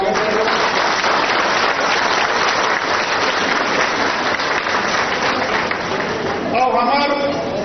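Crowd applause welcoming the state chief minister at a community society's annual conference, a dense, sustained wash of clapping lasting throughout, with voices mixed in.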